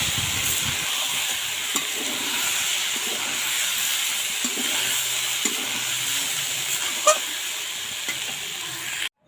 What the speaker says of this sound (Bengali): মাছ আর বেগুনগুলো ভালো করে মিশিয়ে নেব। আর যতক্ষণ না এটা থকথকে হবে ততক্ষণ নাড়তে থাকবো।